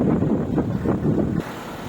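Gusty wind buffets the microphone in rough, rumbling waves before easing off abruptly.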